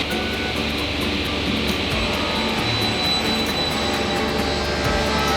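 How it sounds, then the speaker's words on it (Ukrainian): A 11 kW industrial screw air compressor with twin screws runs steadily in a woodworking shop, giving a loud, constant whooshing drone with a high whine, unbroken for the whole stretch. "один компресор основний, який завжди працює"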